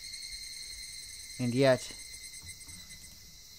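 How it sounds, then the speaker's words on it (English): Cicadas in the video game Higurashi When They Cry drone as a constant high, loud, shimmering hum, while a brief spoken phrase cuts in partway through. "Only the cry of the cicadas remained, annoyingly loud."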